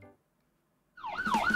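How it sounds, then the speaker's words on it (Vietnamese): A cartoon police car siren wails in a rising and falling pattern, loud and close. It starts abruptly after a short bit of speech and a pause. "Xe cảnh sát."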